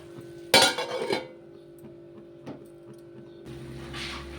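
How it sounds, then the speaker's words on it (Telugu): A metal lid is set onto a cooking pan in a kitchen while capsicum and prawns cook, giving a sharp clattering clink that rings briefly, followed by a soft knock and a low background hum. "మూత పెట్టేద్దాం."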